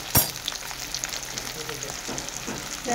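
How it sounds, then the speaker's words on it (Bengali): Onions sizzling in a pan as they brown lightly, a soft continuous frying hiss with a sharp clack of a spoon at the start and occasional scraping stirs, close by and without talk. "পেঁয়াজটাকে হালকা লালচে লালচে করে ভেজে নেবো।"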